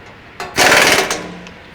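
A power tool snugging down the screws on a cutterhead screen gives one short, loud whirring burst lasting about half a second, then fades to a quiet tail.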